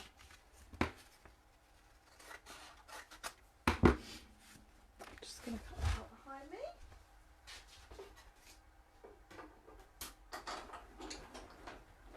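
Patterned paper for a fold-out card is cut by hand, with scattered soft snips, rustles and taps close by under intermittent talking.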